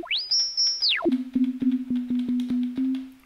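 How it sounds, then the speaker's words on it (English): An Elektron Digitone synthesizer playing an initialized sine wave patch: a pitch sweep glides up, holds, then drops to a low steady tone pulsed in a regular rhythm of repeated short notes, clean and alone. "it's sort of a initialized patch, right? Just a little sine wave."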